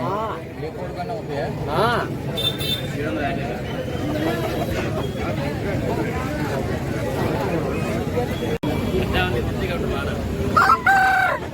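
A rooster crows among clucking country chickens at a busy outdoor village market, with people chattering throughout.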